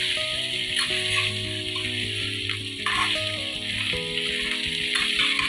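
Bitter gourd and onion sautéing in oil in an open pan, a continuous loud sizzle and crackle with occasional stirring scrapes, no talking.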